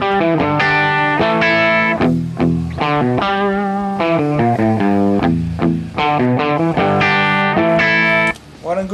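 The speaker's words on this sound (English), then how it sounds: "And now the guitar sounds something like this" Electric guitar played through a Coolplex amp model in Guitar Rig 5 rings out with chorused, effected chords and melodic notes, loud and sustained, with no talking.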